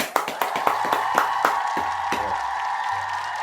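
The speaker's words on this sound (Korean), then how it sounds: "자 박수" Hands clap in a quick, fairly regular series of sharp claps close by, about eight of them, against a low steady hum that continues after the clapping stops.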